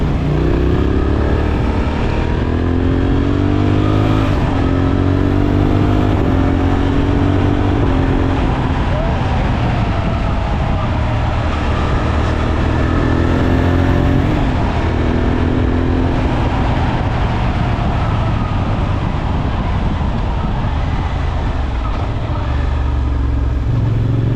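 A Suzuki V-Strom 800SE twin-cylinder motorcycle engine drones steadily under heavy wind rush while riding, rising and falling through several gear changes, with a rider talking over it.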